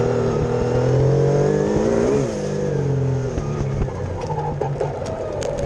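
A 2.5-liter twin-turbo V6 race car engine revs hard and loud up close, its pitch sweeping up and then easing back as the car accelerates, with no voices.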